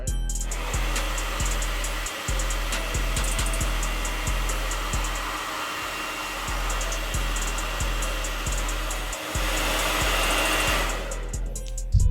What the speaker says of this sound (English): you use the dryer to get it hot